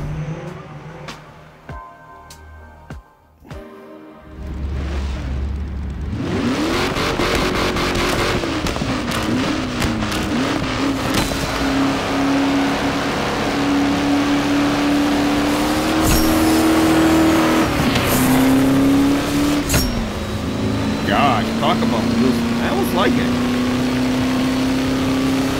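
A 1955 Ford Thunderbird engine revs hard with wheel spin. After a quieter, choppy start it settles into a loud, sustained, slowly rising engine drone, with tire squeal mixed in.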